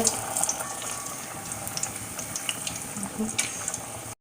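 Lentil vadas (paruppu vadai) frying in hot oil over a low flame, a steady close hiss and crackle with scattered bubbling pops running throughout, no voices.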